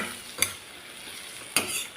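Vegetables with turmeric and spice powder being stirred and sautéed in a pan for a mixed vegetable poriyal, two sharp scraping strokes over a soft, steady sizzle, close and alone without talk.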